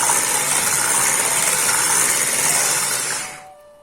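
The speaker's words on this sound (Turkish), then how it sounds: "Şimdi bunu mikserle 1-2 dakika kadar" Loud continuous electric mixer whirring through cream for tiramisu for about three seconds, then switching off and spinning down.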